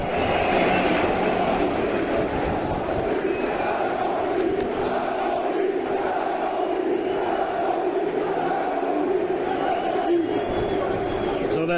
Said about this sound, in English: So the sound you just heard there was the crowd going mad for the goalkeepers coming out to warm up.